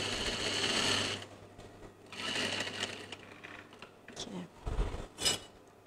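A sewing machine stitches the side seam of a child's garment in short bursts of whirring, then pauses, with handling clicks and knocks between runs.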